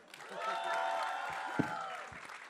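An audience claps and cheers in a swelling burst, with a few sharp thumps as the applause tapers off.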